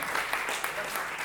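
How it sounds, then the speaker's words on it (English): Wedding guests at a reception at The Addison of Boca Raton break into a brief, dense round of applause, steady and close-sounding throughout. "Give Jody a big round of applause as well."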